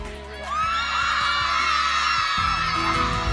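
Fans screaming at a live event, a dense, loud, continuous wall of high-pitched shrieks and cheers filling the whole moment.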